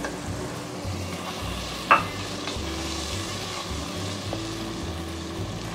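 Three coarsely chopped medium tomatoes added to a pan of frying food for chana pulao, with a steady sizzle, a sharp clink of a utensil early on and soft stirring, close by.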